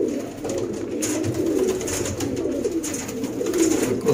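Teddy pigeons kept for sale in Sialkot coo steadily in low, throaty, rolling calls that overlap close by. Faint scuffs and rustles sit in the background, and no one speaks.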